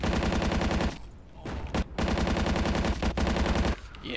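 Rapid automatic gunfire and grenade blasts from the Stalingrad battle in the video game Battlefield 1942 come in loud bursts broken by short pauses, with sharp single cracks between them.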